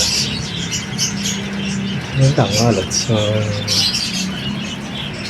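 Pet parakeets chirp and tweet busily in the background while someone talks nearby, their high calls running continuously.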